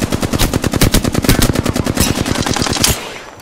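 Rapid automatic weapon fire in the battle royale game Apex Legends, a loud, close, evenly spaced stream of shots lasting nearly three seconds before cutting off into a brief decay.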